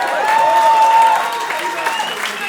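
Audience applause in a comedy club after a guest says they are unemployed, a steady broad clapping wash lasting the whole moment, fairly loud with a faint voice mixed in.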